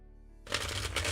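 After a short hum, a quick burst of tarot cards being shuffled rustles and flutters up close for under a second.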